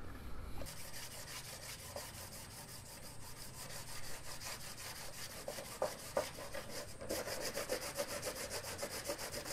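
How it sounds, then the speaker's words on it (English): Sandpaper rubbing back and forth over a fiberglass kayak hull, a steady close scraping texture with continuous rhythmic strokes throughout, 80 grit and 600 grit wet-and-dry paper. "we just got to get to with the sandpaper and smooth all that out"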